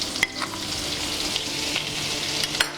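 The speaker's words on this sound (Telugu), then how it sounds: "బటర్ కరిగిపోయింది కదా, ఇప్పుడు మనం 2 స్పూన్లు మైదా వేసుకుందాం." Two spoons of maida flour hit melted butter in a pan for white sauce pasta, sizzling steadily while a spoon stirs and scrapes with a few sharp clicks, close and continuous.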